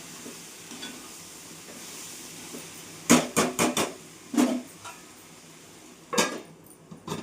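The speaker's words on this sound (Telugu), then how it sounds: "అది ఫ్రై అవుతుంది ఫ్రెండ్స్" Masala curry frying in a pan with mirchi, a soft steady sizzle broken by a quick run of clattering stirs against the pan, then a couple more scrapes, with no voices.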